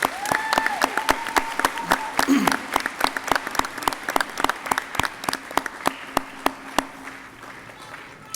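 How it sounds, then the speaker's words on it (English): Graduates and audience giving a round of applause at a high school academy commencement, full crowd clapping at first that thins into slower, sharper individual claps, with a faint tone and murmured voices underneath. "please stand and give a round of applause to those support systems that enabled you to be here tonight"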